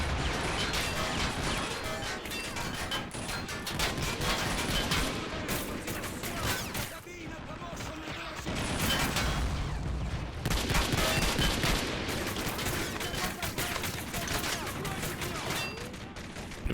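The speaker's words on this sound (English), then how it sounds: "Oh, more explosions inside the city. Rockets are being fired." Explosions and rocket fire in a war video game set in a city battle in Moscow, with dense, continuous booms and gunfire-like crashes throughout, loud and sustained with only a brief lull midway.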